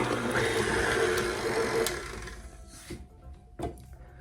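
Gluten free bread batter made with King Arthur Gluten Free Bread Flour and warm water being mixed in a bowl, a dense churning, scraping whir that runs for about two seconds, then fades to quiet with a couple of soft knocks.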